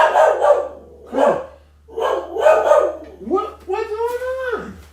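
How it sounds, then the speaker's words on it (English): Dogs bark in repeated bursts, close and loud, ending in a long whining yelp. "What are they barking about?"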